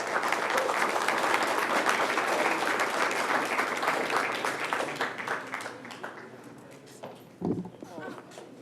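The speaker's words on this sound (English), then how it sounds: "give them a round of applause" Applause from the audience at a town council meeting, dense clapping that fades out toward the end, with voices and shuffling under it.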